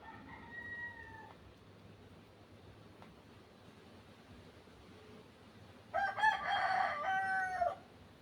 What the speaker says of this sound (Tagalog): So kasali na yung tilaok ng manok